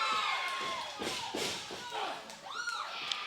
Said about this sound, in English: Crowd calling for the chops.